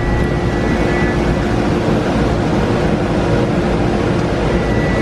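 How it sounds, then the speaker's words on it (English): A steady, loud hiss of water spray rinses tumbler residue off a Lamborghini wheel, continuous and unbroken from start to finish with no talking. "So right now he's gonna wash off any of the residue from the tumbler."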